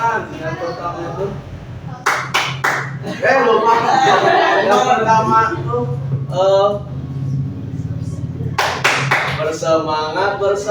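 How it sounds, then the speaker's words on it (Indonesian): A group claps hands in short rhythmic bursts as an ice-breaker during an Indonesian motivational session, two quick volleys of sharp claps separated by a leader's loud talk and group chanting. "Jadi ice breakingnya yang pertama kita tepuk tangan."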